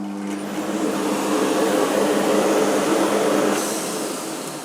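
Bosch Perfecta 85 cylinder vacuum cleaner, new in box, with its motor whirring steadily and then winding down as the nozzle is parked, a close broadband drone that softens toward the end.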